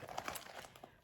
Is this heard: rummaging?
yes